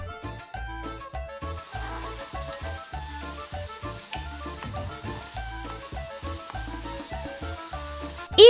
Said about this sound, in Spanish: lo que voy a hacer es un rehogadito de verdura. Le estoy poniendo acá cebolla de verdeo